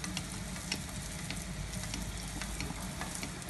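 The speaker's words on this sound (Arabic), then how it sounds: "نديرها في المقله الاخرى اللي فيها الزيت بزاف" Sfenj dough frying in a pan full of oil, a dense, even sizzle and bubbling that holds steady throughout at close range with no voices.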